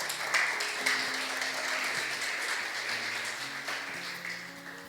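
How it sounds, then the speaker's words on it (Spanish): A church congregation applauds the sermon at a Sunday service, with sustained, dense clapping over soft tonal music that tapers slightly toward the end. "Aplaude la palabra"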